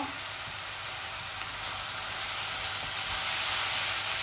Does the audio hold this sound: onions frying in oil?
yes